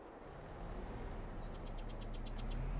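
Tractor with a front loader attachment idling in Farming Simulator 22, a low, steady engine rumble that swells slightly toward the end, with a brief rhythmic ticking above it.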